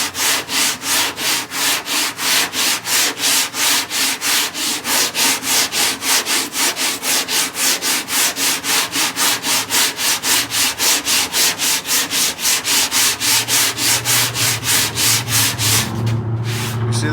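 Sanding block rubbed back and forth over body filler on a car panel, a loud, close, rhythmic rasping stroke repeating steadily about three times a second.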